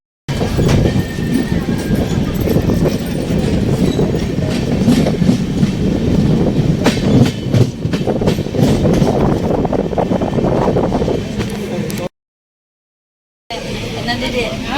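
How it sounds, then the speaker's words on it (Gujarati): Inside a moving passenger train, a loud continuous rumble with rhythmic clickety-clack of wheels on the rails, with people talking over it, before a brief cut and a quieter return. "અમારી ટ્રેન જો હવે જાય છે."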